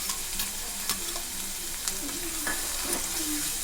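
Onion and garlic paste fries in a pan with a soft continuous sizzle, punctuated by several sharp utensil scrapes and clinks as it is stirred, close and moderately quiet.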